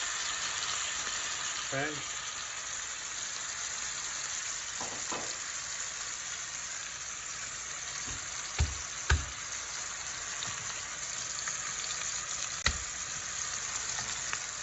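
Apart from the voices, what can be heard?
rib eye steak sizzling as it is laid in a pan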